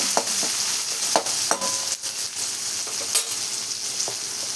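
Vegetables for a cabbage curry with tomato and green chillies sizzle steadily in a pan, with a bright crackling hiss and several sharp stirring clicks and scrapes at irregular intervals, close and moderately loud.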